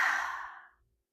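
A single deep, breathy exhale during a stretching routine, loud at first and fading smoothly to silence within about a second, alone with no talk.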